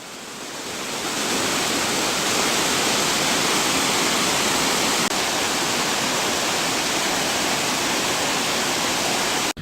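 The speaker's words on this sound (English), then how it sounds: "Here's the waterfall." Torc Waterfall in Killarney National Park rushes in a dense, constant roar that swells in the first seconds and then holds loud and steady, with no voices.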